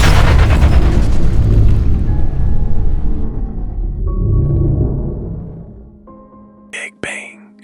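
A huge cinematic explosion representing the Big Bang erupts with a loud, sustained low rumble that swells and then slowly decays, ending in a couple of brief sharp bursts.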